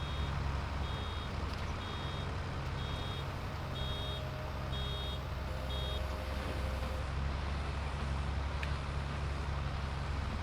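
A baler in Farming Simulator 22 gives about six evenly spaced, high electronic beeps, roughly one per second. They sound over a constant loud hum of farm machinery, and no one speaks.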